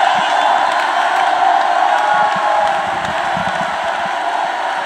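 Church congregation loudly clapping and shouting praise together, a dense sustained crowd roar with scattered claps running steadily throughout.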